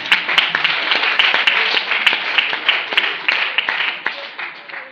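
Church congregation applauding and cheering in praise of the Lord, a steady, dense wash of many hands clapping with sharp individual claps and voices mixed in, sustained throughout at fairly close range.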